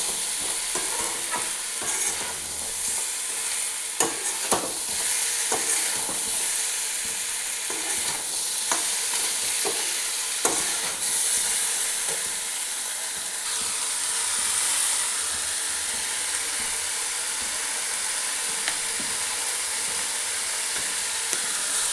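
Spice paste fries in mustard oil with a steady hissing sizzle, broken by frequent scraping and clinking stirs of a spoon against the pan, close and continuous throughout, no voices.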